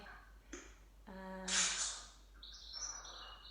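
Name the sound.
birds singing outside in the background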